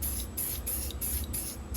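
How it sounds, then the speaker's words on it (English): Spray paint hisses from a can in a steady, continuous spray, broken by brief pulses, as resin-printed mask eye frames are coated. "and I spray painted those"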